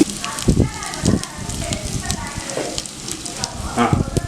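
Onions and paste cook on a low flame for chicken biryani with a soft, continuous sizzle and a few stirring scrapes, while a person talks over it.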